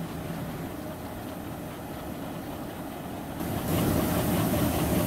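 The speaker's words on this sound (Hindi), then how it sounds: "तुम लोगों को एक एयर प्रेशर की आवाज़ आ रही है" A locomotive in Train Simulator, on an Indian Railways route, gives off a steady hiss of air pressure. It swells louder partway through and runs on without pause.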